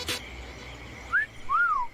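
A person whistling two short rising and falling notes, thin and fairly close over a quiet background, after a brief rustle at the start.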